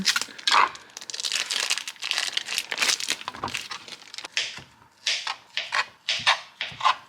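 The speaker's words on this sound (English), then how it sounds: "Always kind of a pain to get the tempeh out of this second skin." Plastic packaging is peeled and pulled off a block of tempeh, producing close crinkling and tearing rustles in irregular bursts, ending in a series of short, sharp crackles.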